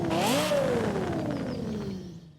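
A high-revving engine in Forza Horizon 5, one with an F1-like wail, climbing then sweeping down in pitch as it passes, loud and steady with no talk.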